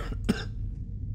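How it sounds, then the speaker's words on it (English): A single short cough, almost a throat clear, comes after drinking coffee: one sharp burst followed by fading breathy noise, close and moderately loud. "Coffee cough"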